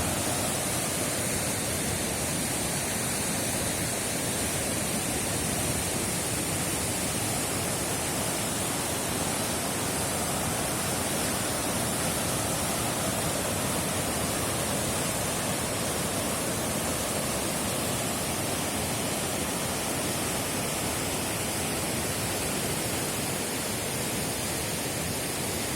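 Icy water at about one degree rushing past, a dense, continuous broadband roar that stays loud and unchanging for the whole stretch, with no voices.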